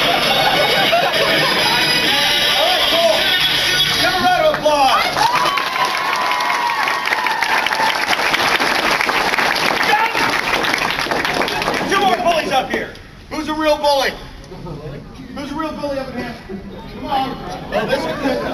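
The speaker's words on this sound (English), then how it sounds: "Give a round of applause." Loud crowd applause, clapping and cheering from an audience at a convention comedy panel, sustained for about twelve seconds before fading into scattered claps, chatter and a speaking voice.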